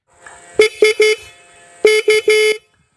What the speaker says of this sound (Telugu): ఒకసారి హార్న్ వినిపిస్తాను చూడండి.